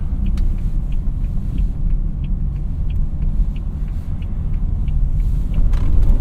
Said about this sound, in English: Oh goody, we have a gravel road.